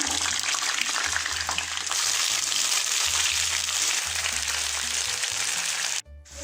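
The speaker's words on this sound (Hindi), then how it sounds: "एक पैन में थोड़ा सा ऑयल गरम करें, एक प्याली मटर इसमें फ्राई कर लें।" Peas fry in hot oil in a pan, a steady close sizzle with occasional stirring scrapes, continuous for several seconds before cutting off abruptly near the end, no talking.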